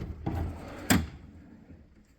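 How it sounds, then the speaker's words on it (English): Metal drawers of a Harbor Freight tool box slide and shut, two short clunks close by with the second sharper and louder, in an otherwise quiet garage. "And then just going into the little drawers."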